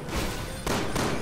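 Gunfire in the video game Resident Evil 6, a dense burst of loud shots crowding together in a continuous volley, with a short dip midway before the firing resumes.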